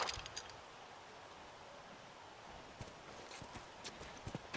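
Horse hooves clip-clop in The Last of Us, a steady run of soft, mid-distance footfalls over a constant ambient game background, with no talking.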